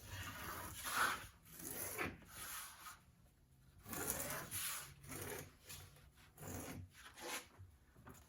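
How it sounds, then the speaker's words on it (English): Needle tool scraping around a stencil to cut a clay slab for a dice tower, soft close rasping strokes coming in short uneven bursts with quiet pauses between, no voices. "So I simply put the stencil down using a needle tool. Just go around and make a nice slab."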